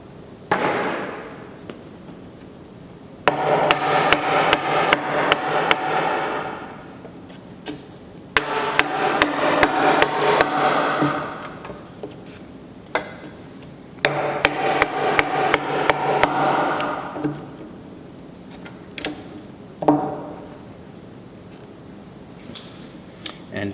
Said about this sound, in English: So while we're back here, I'm going to finish up this mortise.